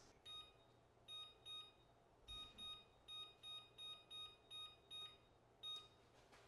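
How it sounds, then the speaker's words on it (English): An oven timer beeps as it is set, a series of short, bright electronic beeps in quick bursts and pairs, quiet and unaccompanied by talk. "you're also going to want to set the oven timer for like 10 minutes"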